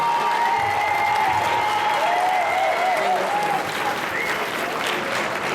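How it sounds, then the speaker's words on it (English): An audience at a fifth grade promotion ceremony applauds the recipients with sustained, dense clapping and faint cheering, while a voice speaks over it for part of the time. "Let's give all of our recipients a round of applause."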